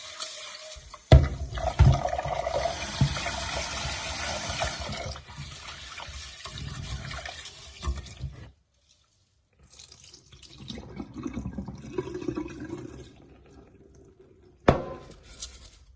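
Long grain rice being washed in water, a final rinse: splashing and swishing close by, then a short quiet gap, then gentler sloshing and a final splash, with no one speaking.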